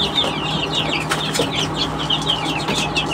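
A hen clucks in a backyard coop, with continuous busy clucking and rustling wing flaps close by, steady and fairly loud throughout.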